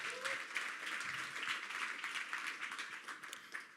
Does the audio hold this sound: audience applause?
yes